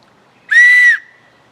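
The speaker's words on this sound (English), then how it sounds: "Item number 7, just a whistle." A single sharp survival-whistle blast, loud and shrill, held steady for about half a second before cutting off cleanly.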